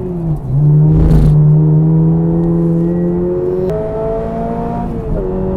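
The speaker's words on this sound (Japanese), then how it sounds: "この HKS テクニカルファクトリーのね、GR86 の一周アタックとかでもやってみましょうか" An HKS turbocharged Toyota GR86 laps a race circuit as its engine drones loudly and steadily, with pitch shifts through gear changes and a brief rush of air near the start.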